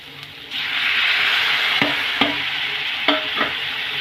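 Onions and tomatoes stirred in hot oil for a drumstick-tomato curry: a steady close sizzle swells after the first half second, with a few sharp spoon scrapes against the pan and no talking.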